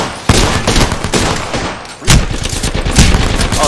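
Rapid bursts of gunfire from a video game shooter, loud and dense, with an overlapping volley that swells again near the end.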